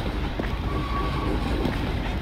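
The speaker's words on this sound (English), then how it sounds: "Oh, it's moving the train, look at that." Moving train in the game Team Fortress 2 on the Dustbowl map, a steady broadband rumble of rolling wagons with a faint high squeal, continuous and fairly close, no talk.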